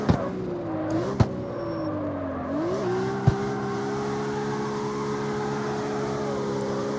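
A Toyota Supra on sports tires driving in CarX Street, the engine holding a steady hum that dips and climbs as it shifts, with a few sharp knocks along the way.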